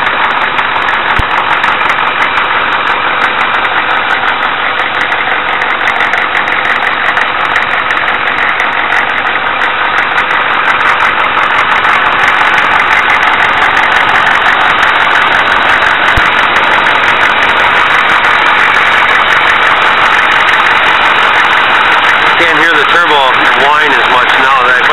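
A 1994 Chevy K2500 truck engine idles with its stock airbox fitted, giving a steady, loud, close-up drone with an even mechanical hum that holds unchanged throughout.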